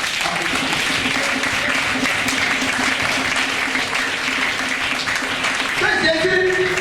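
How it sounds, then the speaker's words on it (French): A church prayer-vigil congregation applauds steadily and loudly throughout, a dense continuous clapping wash with no break, rising slightly at the end. "Applaudissez le nom."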